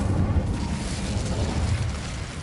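A fire spell cast in a Harry Potter game, heard as a dense, rumbling whoosh of flame that roars continuously and loudly with no voices.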